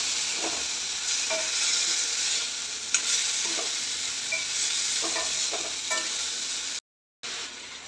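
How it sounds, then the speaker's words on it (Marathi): Shepu bhaji, chopped dill leaves, sizzles steadily in a frying pan while a spoon stirs through it, with scattered scraping strokes over a constant bright hiss, close and fairly loud, with no talking. "भाजी छान प्रकारे फिरवून घेऊ।"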